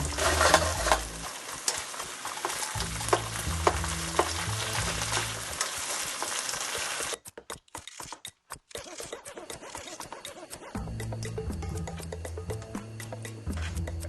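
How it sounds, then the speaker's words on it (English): Onions sauté in a pan with a steady, close sizzle and crackle, briefly thinning in the middle and then carrying on, with a low hum beneath; no one speaks. "We're going to put in the onions. We're going to let those just start to get translucent before I put the tomatoes in."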